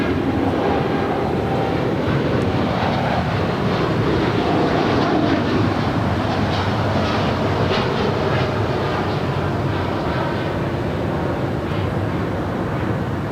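A passenger airliner lands on runway 25 left at Los Angeles International Airport, a loud, steady broadband roar with low rumble that holds throughout, with no voices.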